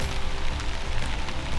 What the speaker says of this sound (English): it started raining on us